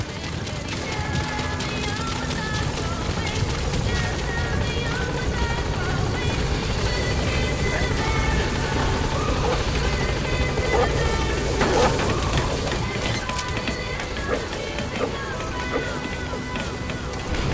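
In Metal Gear Solid V: The Phantom Pain, a helicopter gains altitude with a continuous loud rotor thrum and engine drone, steady throughout, with occasional game effects mixed in and a faint voice underneath.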